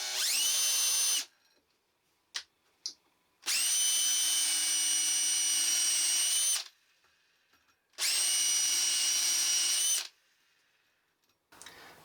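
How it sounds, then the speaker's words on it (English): A power drill with a depth stop whines loudly in three bursts of a few seconds each as it bores into wood, with short quiet pauses and small clicks between. "So I'll now drill into this piece."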